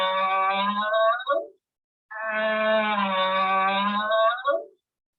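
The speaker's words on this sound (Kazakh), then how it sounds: "түйенің төлі, ботаның дауысы екен" A camel calf calls out in two long, low, groaning bellows, each over a second long and ending with a quick rising catch, heard close and alone with a brief pause between.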